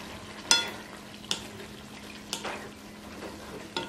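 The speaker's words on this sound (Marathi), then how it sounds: "तर हा आपण ह्याच्यात घालूया आणि एकदा ह्याला छान मिक्स करून घेऊया।" Cooked potato pieces, peeled and cut into chunks, stirred into usal in a pan: a few soft scraping, clattering spoon strokes over a steady low sizzle, close and moderate, with no talk.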